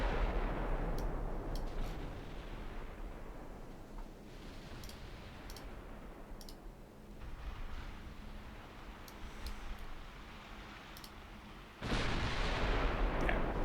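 Naval artillery in a Greek extended campaign of a naval strategy game fires as scattered sharp cracks over a steady low rumble, building to a loud burst near the end, with no talking.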